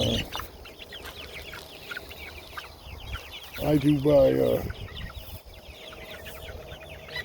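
A chicken clucks briefly at moderate distance, a short run of throaty calls, while a person talks quietly before and after.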